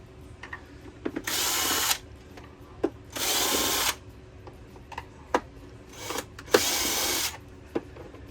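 Power drill backing screws out of the bottom of a Hoover shampooer, three separate close whirring bursts of about a second each, with small clicks and handling knocks in between.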